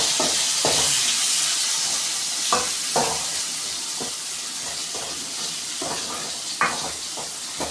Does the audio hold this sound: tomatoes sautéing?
yes